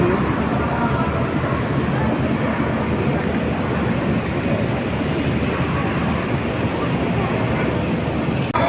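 A train at Guangzhou South railway station at night fills the space with a steady, loud, broadband rumble and hiss that holds throughout, with a faint voice or two in the background.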